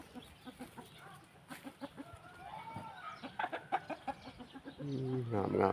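A Burmese fighting chicken raised in the Thai countryside clucks in short repeated notes. A louder crow-like call comes near the end, with a voice talking quietly in between.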